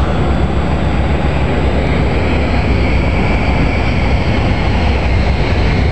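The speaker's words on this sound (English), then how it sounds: "Watch for it go into thrust reverse" Loud, steady roar of a C-17 military transport's jet engines at full power, a dense broadband rush with no breaks, braking with thrust reversers after touchdown.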